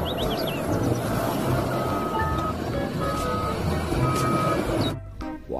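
Repeated reversing beeps from a toy snowplow truck ring out steadily over a busy mechanical rumble, cutting off abruptly near the end.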